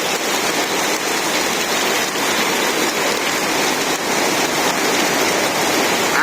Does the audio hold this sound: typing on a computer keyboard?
no